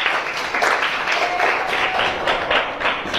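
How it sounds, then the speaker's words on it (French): Students in a French-language classroom clap together in a brisk, continuous round of applause, close and fairly loud, with no speech over it. "applaudissez d'abord."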